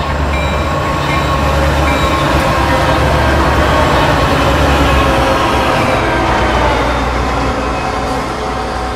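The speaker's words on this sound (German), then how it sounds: "Ah, so ein Zug jetzt noch." A train rumbles past continuously in American Truck Simulator, a loud and steady rolling roar with a dense mechanical clatter that keeps going for the whole stretch, with no voices over it.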